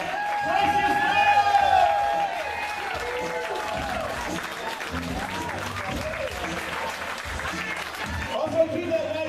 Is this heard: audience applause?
yes